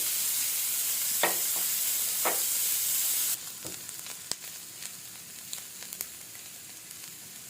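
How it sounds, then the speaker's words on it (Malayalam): About fifty grams of chopped onion frying in a pan give off a steady, loud sizzle that drops to a quieter crackle partway through, with a few sharp utensil clicks. "ഒരു 50 ഗ്രാം സവാള നുറുക്കിയത്. ഇത് നന്നായി ഫ്രൈ ചെയ്ത് വേണ്ടത്."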